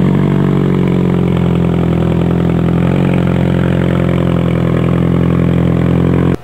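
A hybrid boat motor running just after start-up, a loud, steady close-up engine drone with a faint rise in pitch midway, cutting off abruptly at the end, no talk.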